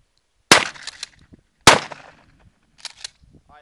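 Two sharp, loud shotgun blasts during a dove hunt, about a second apart, each trailing into an outdoor echo, followed by fainter clicks and rustling.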